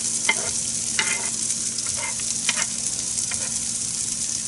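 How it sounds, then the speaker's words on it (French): Onions sauté in oil on a grill, with pecan oil mentioned as the oil. A steady close sizzle runs throughout, broken by a few scraping stirs. "on fait revenir un petit peu les oignons"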